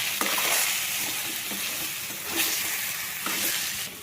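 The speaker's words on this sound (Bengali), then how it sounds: "এই যে ধনেপাতা কুচিয়ে দিয়ে দিলাম, মিশিয়ে ঢেকে রেখে দেবো" Cabbage curry with chopped coriander stirred in a pan, close sizzling under repeated scraping strokes of a spoon at a slow, uneven rhythm, with no talk.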